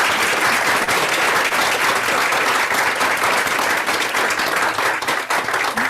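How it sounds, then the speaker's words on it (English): An audience at a Brookline School Committee meeting gives a big round of applause, dense, loud clapping that holds steady for the whole stretch without talk. "give them another big round of applause"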